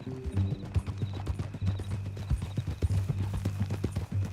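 Horse hoofbeats from the video game Red Dead Redemption 2, a steady clip-clop of hooves at close range, with a brief snort and faint low tones under it.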